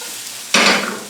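Chicken and wilted cabbage stir-fried in a hot pan, a soft hiss that suddenly swells into a loud, close sizzle as the food is tossed, then fades slightly.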